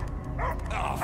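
A dog barks and whimpers in Marvel's Guardians of the Galaxy video game, short yips close by over a low rumbling game soundtrack.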